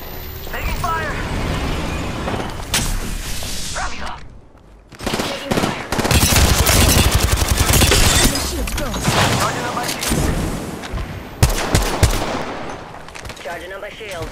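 Gunfire in the battle royale shooter Apex Legends, loud bursts and rapid clattering shots coming in several waves over game sounds, with a short lull midway.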